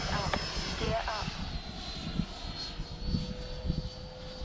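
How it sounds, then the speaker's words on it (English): A radio-controlled model airplane's motor whines steadily through takeoff, a buzzing drone that shifts in pitch as the craft climbs away, with voices talking over it. "this plane has no problem getting off the ground. Plenty of power."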